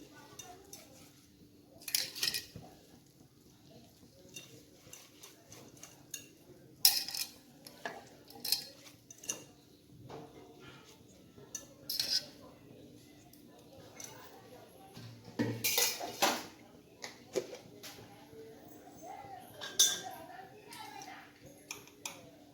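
Pot and metal utensils clattering as amaranth greens (rajgira bhaji) go into a pan in a home kitchen, with scattered sharp clinks and knocks through the span and a voice talking over them.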